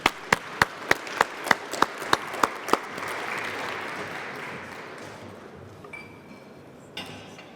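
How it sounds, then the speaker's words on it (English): At an innovation conference, an audience welcomes a guest on stage, with about ten sharp, evenly spaced claps followed by a softer wash of scattered applause that fades out. "A big applause."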